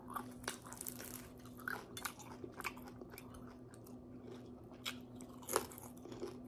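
Faint, close crunching and chewing of crispy Filipino fried chicken, with scattered crisp bites over a low background hum and no talking.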